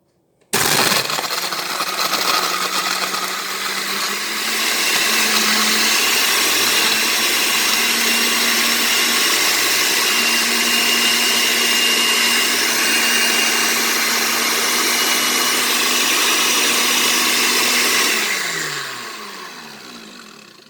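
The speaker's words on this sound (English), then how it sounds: "So to start off, because we have the ice, we are going to grind." A blender grinds ice for a green smoothie, its loud, steady motor whir running for about seventeen seconds before spinning down at the end.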